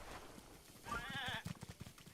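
Goats in The Legend of Zelda: Breath of the Wild give one clear wavering bleat, followed by a few soft rhythmic clip-clop steps, all quiet and somewhat distant.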